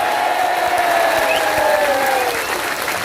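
A large audience at an Islamic religious gathering keeps up sustained, loud applause, an even wall of clapping with faint cheering and voices carrying over the top.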